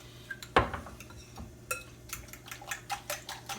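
A fork clinks and taps rhythmically against a bowl, whisking eggs for French toast with quick repeated scraping strokes close by, with a low steady hum underneath.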